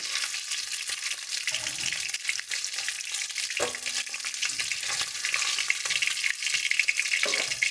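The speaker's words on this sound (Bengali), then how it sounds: "দেখো একই রকমভাবে আমরা সমস্ত মাছগুলোকে ভেজে নিচ্ছি" Pabda fish fries in oil with a steady bubbling sizzle, punctuated now and then by a soft clink of a utensil.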